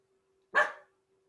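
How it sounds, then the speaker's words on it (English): A single sharp dog bark rings out close and loud against silence, fading quickly. "I have killer dogs here."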